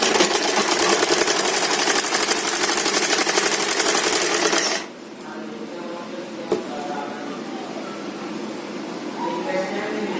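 A sewing machine stitches a kurti neckline to its lining with a fast, steady mechanical whir that stops about halfway through, leaving quieter room sound with soft handling noises.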